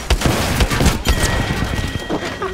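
Rapid gunfire bursts from an Apex Legends battle, dense overlapping shots with crashes and impacts across the whole moment, loud and close, no speech.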